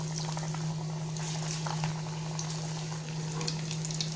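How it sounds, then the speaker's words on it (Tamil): Mixed dal vadai (thavala vadai) frying in hot oil, a steady close crackle and sizzle running evenly without pause, with no talking over it. "ஆயில் ஹீட் ஆகிடுச்சு, நம்ம இதை வடையை போட்டுக்கலாம்."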